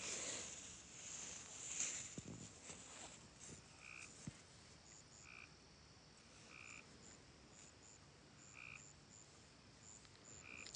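Frogs croak in short repeated bursts against a quiet night background with insects, calls spaced a second or two apart, moderately distant.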